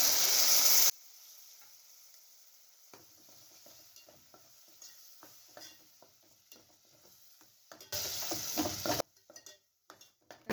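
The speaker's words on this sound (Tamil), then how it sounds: "தக்காளி நல்லா வதங்கட்டும்." Tomato paste frying in a pan for a fish curry, with a soft crackling sizzle and scattered scraping stir sounds, loud bursts of hissing near the start and again toward the end.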